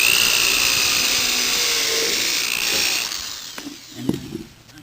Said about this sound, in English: I'm going to drill a 45-degree angle nail.